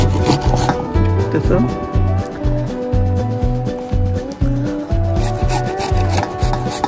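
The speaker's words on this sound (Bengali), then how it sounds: "আমটা গ্রেড করতেছি" Peeled mango rubbed against a grater at a forest campsite cooking spot: steady, rhythmic rasping strokes repeat close up for several seconds with no talking.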